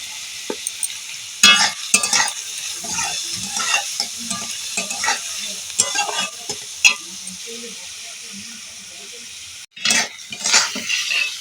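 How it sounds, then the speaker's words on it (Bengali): Green chilli and onion stir-fried in a pan, a steady close sizzle with scraping spatula strokes and occasional clinks of utensil against the pan, pausing briefly near the end before stirring resumes. "নেড়ে একটু হালকা ভাজা হয়ে গেলে কাঁচা লঙ্কা পেঁয়াজ বেশ খানিক্ষণ নাড়া হয়ে গেছে"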